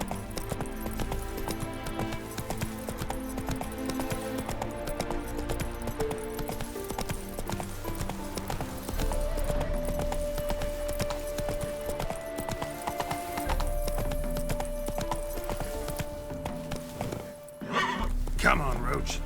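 Roach, a horse in The Witcher 3, trots with continuous hoof clip-clops and neighs near the end, under a sustained music bed and spoken dialogue.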